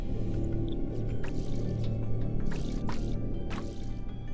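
A ghost girl in the horror video game Corpse Party makes wet, dripping gurgles, several bubbly pops spaced irregularly over a low, droning ambient background.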